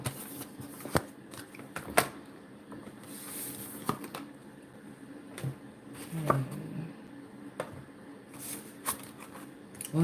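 Tarot cards handled and shuffled on a table, light papery riffles and sharp taps and slaps recurring irregularly, close and fairly quiet, with no talk over them.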